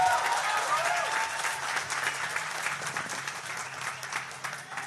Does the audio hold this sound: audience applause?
yes